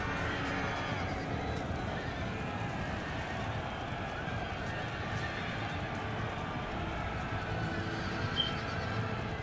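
Galloping horses in the video game Empire: Total War, a dense, steady drumming of many hooves with whinnies and neighs rising over a continuous crowd-like rumble.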